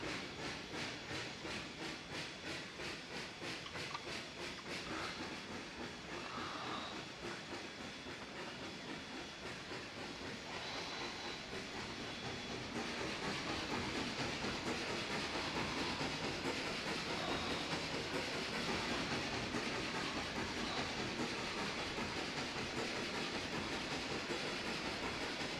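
A Canadian Pacific H1 Empress 2816 steam locomotive's custom sound set in the Trainz simulator plays a steady, loud steam hiss and rolling chuff with clickety-clack of wheels. It runs continuously and swells a little louder partway through, with no talk.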